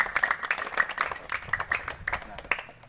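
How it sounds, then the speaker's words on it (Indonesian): Audience clapping at a Betawi silat performance, a scattered run of hand claps spread over a few seconds, moderately close, with a murmur of voices underneath. "Tepuk tangan dong."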